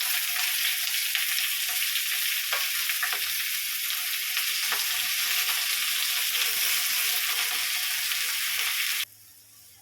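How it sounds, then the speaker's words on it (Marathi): Loud, steady sizzling of onion and tomato frying in a hot pan for gravy, with a few stirring scrapes, cutting off abruptly near the end. "ग्रेव्हीसाठी वाटण भाजून घेऊया आपण कांदा टोमॅटो"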